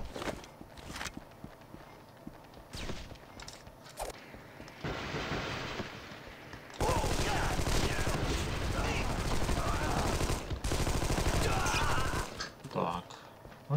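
Gunfire in the action game Armed and Dangerous: scattered single shots and footstep-like knocks at first, then a dense, loud sustained burst of firing midway that drops back briefly before resuming.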